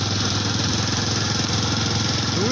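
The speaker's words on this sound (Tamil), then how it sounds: "டூ வீலரில் வந்தாலே கியர் வாங்குது வண்டி" A two-wheeler engine labours in gear on a steep uphill road, a steady, loud, continuous drone with a rapid pulsing beat, close to the microphone.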